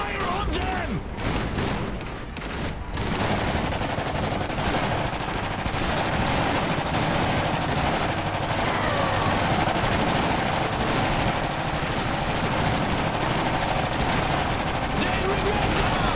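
Dense gunfire and rattling machine guns fill an Iron Harvest video game battle with continuous loud crackling bursts and booms, sustained throughout, with game voices and music mixed in.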